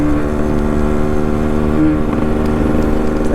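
A Yamaha RX135 two-stroke motorcycle engine runs steadily and close by with a continuous buzzing drone and a slight rise in revs, heard alone with no talking.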